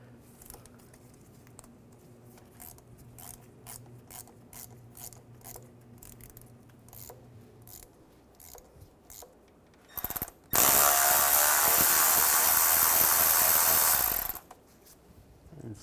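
Ratchet and 8mm socket clicking as a nut comes off a 2005-2010 Chevrolet Cobalt during a clutch replacement, a quick run of close ratchet clicks followed by a loud burst of harsh, broadband noise.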